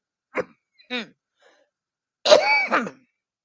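Two short coughs, then a longer, rougher throat clearing, close up, with no talking.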